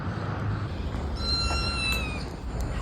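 A recorded cat meow plays from a phone speaker outdoors near a house, a single drawn-out, thin call in the middle of the moment over steady background noise.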